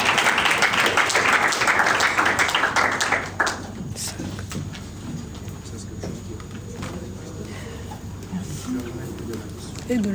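A crowd applauds with dense, loud clapping for about three seconds before it fades, leaving scattered claps under talk and murmuring.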